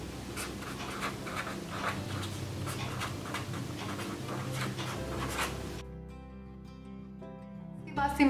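A pen scratches across paper in short rhythmic strokes close up for several seconds, then falls quiet while soft background music continues.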